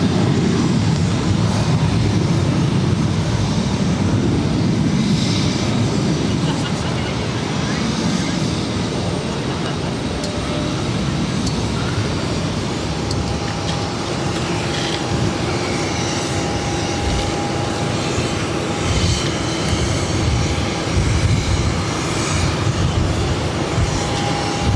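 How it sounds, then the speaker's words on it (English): A Delta Airlines Airbus A321 takes off, its engines a loud, steady roar rising broadband across the whole stretch, heard from airport grounds with faint other noise beneath. "This is Delta Airlines 963 taking off to Atlanta on the A321."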